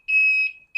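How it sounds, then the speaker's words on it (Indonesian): A styrofoam egg incubator for 50 eggs sounds its power-failure alarm: a loud, steady high-pitched electronic beep lasting about half a second, a short gap, then the start of another beep, with no talk. "Kemudian ada alarm mati lampu juga bisa dihidup, bisa dimatikan ya."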